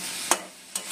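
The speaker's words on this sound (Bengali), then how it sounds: "এবার ভালোভাবে কষে নেবো সবসময়।" Filling stirred with sauce in a pan, a spatula scraping twice against the metal over a low steady sizzle, close and fairly quiet.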